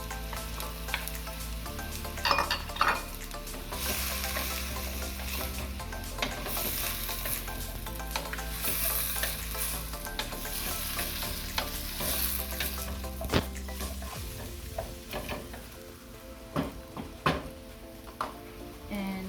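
Beef menudo with potato and carrots sizzles and frys steadily in a pot while a spoon stirs through it, with scraping and clinking of utensil against metal throughout; no talking.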